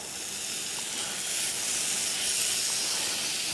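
Bacon strips sizzle steadily in a hot pan on a MyMini noodle cooker and skillet, a continuous loud hiss with no speech.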